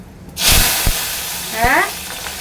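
Ground cumin frying in hot oil in a pan: a sudden, steady sizzling hiss starts and carries on, with a voice speaking over it.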